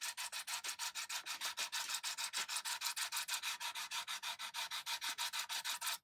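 A file drawn back and forth over guitar frets during fret dressing makes a close, even rasping rub, repeating in quick steady strokes throughout with no talking.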